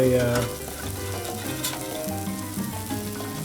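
Hamburger steaks searing on a Blackstone 22-inch griddle give a steady, close sizzle with a busy crackle throughout, fairly loud and without talking.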